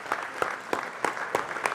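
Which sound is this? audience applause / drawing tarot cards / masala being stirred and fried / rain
audience applause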